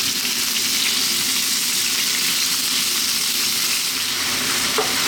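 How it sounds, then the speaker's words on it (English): Thinly sliced beef fries in a wok over very high heat for a Chinese beef and bok choy stir fry, a loud, steady close-up sizzle that holds constant throughout without any voices. "we're going to fry this off for about 3 to 4 minutes, giving it a head start"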